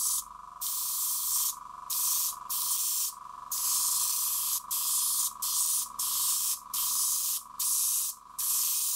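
Close-up airbrush spraying paint, a bright hiss in repeated bursts of about half a second to a second each, separated by short silent gaps as the trigger is pressed and released.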